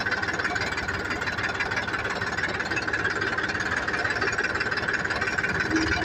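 A tractor engine runs steadily while onion sacks are loaded onto it, giving a constant mid-pitched rumbling drone with a faint knocking texture and no pauses.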